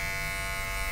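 A Moser electric hair clipper runs with a steady, close mechanical buzz that holds an even hum throughout with no break.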